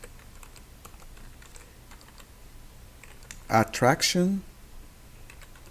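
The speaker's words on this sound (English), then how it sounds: "over here, we're gonna now type park" Computer keyboard typing in a home office setting, a soft steady patter of key clicks under a faint room hum, briefly interrupted by a person speaking close by.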